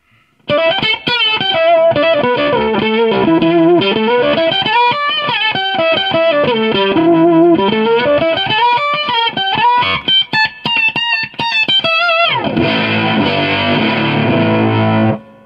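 A heavily fuzzed electric guitar through a Moose Customs fuzz pedal plays sliding, wavering lines with thick distortion, ending on a dense sustained chord; loud and continuous, no voices.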